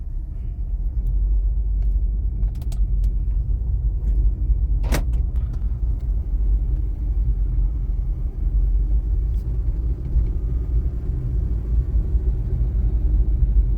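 DFSK Glory 580 Pro SUV with a single turbocharged engine, heard from inside as a steady low rumble of the engine and road while driving, with a brief click partway through.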